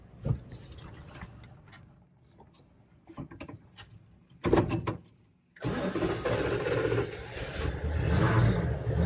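An old camper truck engine starts up with a rattling crank and jangling bits, then runs with a rough, uneven mid-pitched rumble close by after a brief quiet pause.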